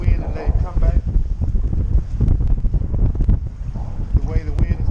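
Strong wind blasts the microphone out on Lake Conroe during kayak crappie fishing from a Hobie Pro Angler, a loud continuous low rumble with water sounds and a voice heard under it.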